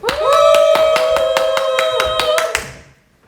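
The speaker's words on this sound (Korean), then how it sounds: "첫 번째 출연자에게 박수해주세요." Audience clapping in steady, evenly spaced beats at a church service where children are brought up as performers, loud and close over a sustained tone before fading out.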